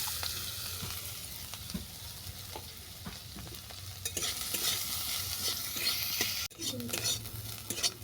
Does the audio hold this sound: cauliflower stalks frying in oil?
yes